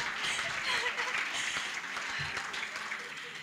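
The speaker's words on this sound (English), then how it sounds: "I would love to get some applause from everyone, please." An audience at the launch of the second phase of the African Girls Can Code Initiative claps in steady, moderately distant applause, with a few scattered chuckles mixed in.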